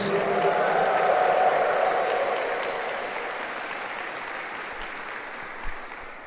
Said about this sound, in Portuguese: Dê uma salva de palmas para a pérola que é Jesus